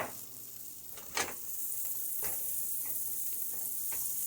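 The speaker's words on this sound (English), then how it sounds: "so I'm gonna put in the butter" Butter melts in a pan on a turned-down stove with a soft, steady sizzle and hiss, broken by a few faint clicks and taps. It sounds quiet and close, with no voices.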